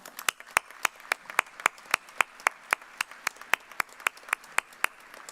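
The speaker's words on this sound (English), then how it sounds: "Please join me in saluting our faculty with a round of applause." Applause saluting faculty at a fall university commencement, heard as sharp, evenly spaced single claps ringing out close by over a faint background of scattered clapping, a steady rhythm of roughly three claps a second.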